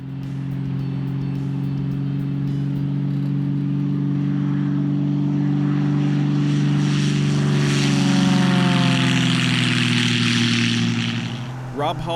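A Game Bird aerobatic propeller airplane flies past, its loud engine drone holding steady, then swelling and shifting in pitch as it passes close before fading at the end.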